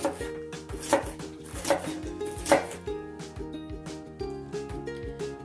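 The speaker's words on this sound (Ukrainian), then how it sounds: "Зараз буду нарізати його такими смужками, складаючи ось так і нарізаючи таким чином." A knife cuts a bell pepper into strips on a board, making a series of sharp, close chops in an uneven rhythm over soft background music.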